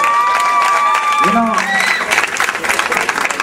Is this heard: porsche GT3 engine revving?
no